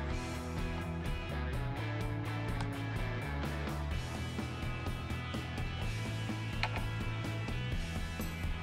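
A screwdriver turning a Phillips screw that holds the fan in an eMachines e732 laptop, giving a close, quiet run of rapid ratcheting clicks and small mechanical creaks, steady throughout.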